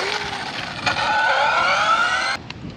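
An Arrma Kraton 1/5-scale RC car with a big 6-pole motor whines at high speed, its electric pitch climbing steadily for about two seconds before cutting off abruptly.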